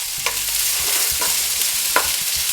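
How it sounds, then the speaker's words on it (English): Garlic and other ingredients fry in a paella pan with a constant bright sizzle, while a utensil scrapes and stirs in a few soft, irregular strokes. "And we're gonna stir a little bit more."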